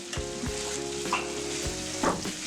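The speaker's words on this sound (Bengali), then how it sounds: "আলুটা ভেজে দিলে মজা হয়।" Potatoes fry in hot oil for beef tehari, a steady close sizzle broken by a few sharp stirring scrapes.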